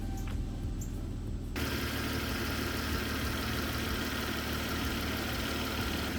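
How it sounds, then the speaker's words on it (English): A Volvo XC90 straight-six engine idles steadily, a low continuous rumble that starts a little quieter and then holds at an even level, close up and alone. "here's your straight 6 idle."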